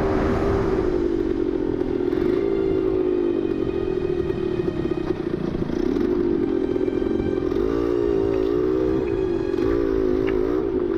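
Steady engine drone of a 1972 Yamaha 100cc two-stroke motorcycle under way, loud and close, holding an even buzzing pitch that rises and dips slightly as the ride goes on, with no talking.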